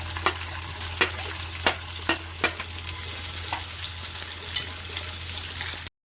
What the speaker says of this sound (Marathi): त्याच्यामध्ये आता कांदा भाजायला घालते